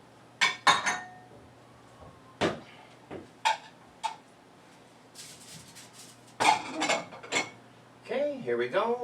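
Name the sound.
plating pork and pasta ragù, dishes and cutlery clinking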